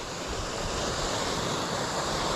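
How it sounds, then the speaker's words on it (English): Rushing water roars steadily at Davidson's Linn waterfall, a dense, continuous broadband wash with no pauses, loud and close, with no voices over it. "Want to come and show people how to get to Davidson's Linn waterfall here."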